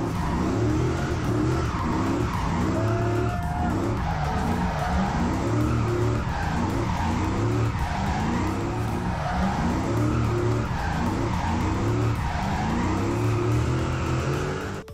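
A car drifting during drifting competition runs, tires skidding and squealing continuously over a loud revving engine, the screech rising and falling in repeated waves for the whole stretch.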